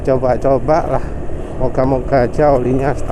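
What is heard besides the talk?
No distinct noise like a dog, phone or traffic.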